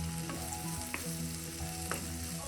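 Green beans fry in a pan with salt as a spoon stirs them, giving a steady close sizzle broken by a few sharp scraping knocks of the stirring.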